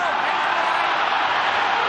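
A rugby league stadium crowd gives off a brief, loud, unbroken wash of roaring noise that holds steady throughout.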